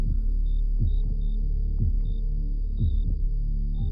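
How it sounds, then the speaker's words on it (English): Low, muffled heartbeat thumps repeat in a steady rhythm over a constant deep hum, with faint high tones blipping in the background. "It was the beating of the old man's heart."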